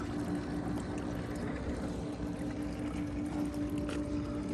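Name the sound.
water draining out of Dolphin E10 robotic pool cleaner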